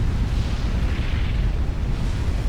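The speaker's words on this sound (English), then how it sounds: "Mandingo explodes in a big ball of fire." A unit blowing up in a big ball of fire during a Forged Alliance real-time strategy match, a dense, sustained low rumbling roar that holds steady and loud throughout with no voices.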